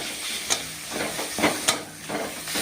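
Chili powder and tomato masala fry for a Bengali-style rohu fish curry, a soft, steady sizzle broken by a few scraping stirs of the spoon.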